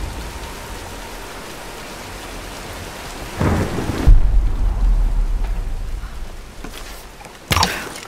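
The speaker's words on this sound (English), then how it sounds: "let's wait out the storm" Thunderstorm with steady rain in the video game Tomb Raider: constant hiss of rainfall, then a deep rumbling thunderclap that rolls for several seconds, followed later by a sharp, loud crack of thunder.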